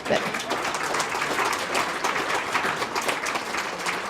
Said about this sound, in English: again, a huge round of applause for Dr. Douglas.